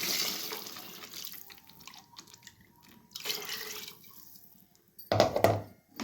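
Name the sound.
water poured into mixer jar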